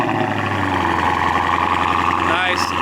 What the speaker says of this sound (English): So here we go, a little bit of a cold start action for you guys.